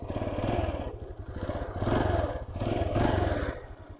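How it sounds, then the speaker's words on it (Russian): A small two-stroke engine of a G-Moto Cross X moped starting up, puttering and revving in repeated surges, its rapid firing rhythm rising and falling close by. "Итак, запускаем двигатель."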